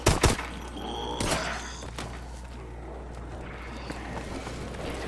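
Gunfire in Call of Duty: Advanced Warfare, a couple of sharp close shots at the start followed by another crack, then quieter background game noise and rustle.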